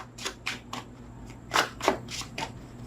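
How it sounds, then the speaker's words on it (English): A tarot card deck riffled and shuffled by hand, a series of crisp papery bursts in uneven rhythm, close and fairly soft, with no talking. "3 outcome cards off the top of the deck after this shuffle"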